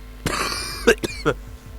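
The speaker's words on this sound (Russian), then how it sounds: "Извиняюсь, кашля" A person with a cold coughs sharply a few times in quick succession, close to the microphone, amid faint background noise.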